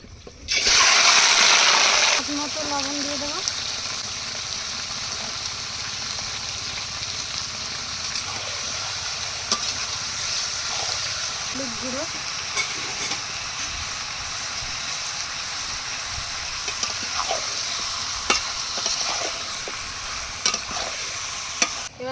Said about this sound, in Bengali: এবার তেলের মধ্যে মাংসগুলো দিয়ে কষিয়ে নেব